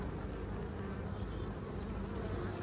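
Honey bees buzz steadily in an opened hive during an inspection, a dense, close, continuous hum with no break and no talk.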